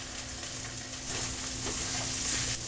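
Salmon fillet laid flat side down in a hot pan, giving a steady, close, broadband sizzle that swells slightly louder partway through and continues without pause.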